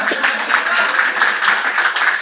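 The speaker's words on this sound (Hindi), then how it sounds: "सबके लिए ताली बजाइए" An audience at a Hindi poetry gathering breaks into brief applause, a dense, even patter of many hands clapping with no voices over it.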